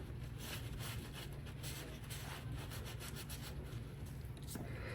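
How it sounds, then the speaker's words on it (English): Resin earrings are wiped down after a spritz of alcohol spray, making a faint, continuous rubbing and scrubbing close by. No one speaks. "I'm gonna take some alcohol spray and I'm just gonna clean really, really well"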